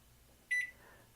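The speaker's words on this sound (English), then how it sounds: "I'm putting coffee in the microwave to heat it up." A microwave oven heating a cup of coffee gives a single short, clear electronic beep that fades quickly into a quiet room.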